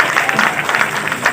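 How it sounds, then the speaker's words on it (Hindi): Audience clapping at a poetry recital during the Basti Mahotsav 2021 festival, a steady dense patter of many hands close by, filling the whole short stretch with no voices over it. "अगर आप लोग मेरी कविताओं पे भी साथ साथ में तालियां बजाओगे तो मैं बुरा नहीं मानूंगी"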